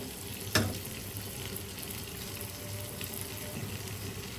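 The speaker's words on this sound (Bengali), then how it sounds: "মাছগুলি এখন উল্টিয়ে দিব হালকা একটু ভেজে আমি মাছগুলি নামিয়ে নেব" Fish and prawns frying in a pan during Bengali home cooking, a steady soft sizzle throughout with one sharp clatter near the start and no voices.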